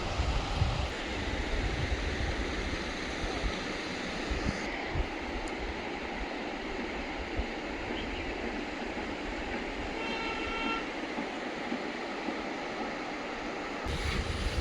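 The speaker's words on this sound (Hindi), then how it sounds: "नदी बह रही है" A river flows past a pump house at a hillside station on a Garhwal to Kumaon route, a steady broadband rush of water that runs continuously and fairly loud, with no voices over it.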